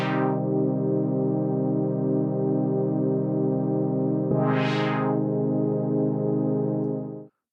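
Synthesized CS80-style pad chord held steadily, its resonant low-pass filter sweeping open at the start and again midway, close and sustained before a clean cutoff.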